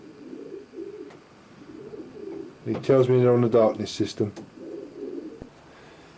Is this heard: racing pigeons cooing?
yes